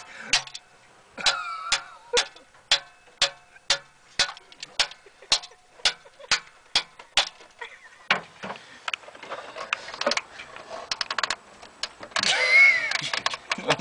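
A car engine with heavy blow-by being started: a long run of evenly spaced, sharp cranking clicks, then rougher, irregular mechanical noise as it turns over, fairly close and with no speech.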